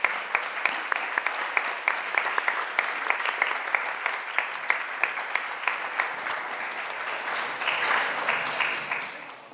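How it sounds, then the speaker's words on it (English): An audience applauds students at a high school presentation day ceremony, with crisp sustained clapping from a moderate-sized crowd that swells slightly near the end. "Please give these students a round of applause."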